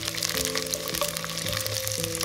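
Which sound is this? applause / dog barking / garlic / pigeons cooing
garlic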